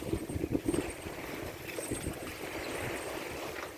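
A sailboat under way in the Caribbean, steady wind rush and water swishing along the hull, a constant close wash with brief bumps early on.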